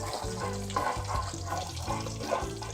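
Cumin seeds frying in oil in a pot on a stove, a steady close sizzle and crackle under faint background sound, without speech.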